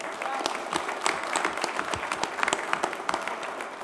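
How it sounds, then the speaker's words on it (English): A dense burst of applause from many hands, steady and fairly loud throughout, with no voices standing out. "give everybody who is involved in this online program a really round of applause"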